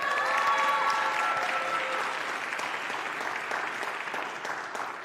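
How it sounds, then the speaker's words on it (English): Sustained, dense audience applause for student Kiona Williams, an Ohio geology major, at an MLK Week opening ceremony. The clapping is steady and full throughout, easing off slightly toward the end. "Please join me to give Kiona another round of applause"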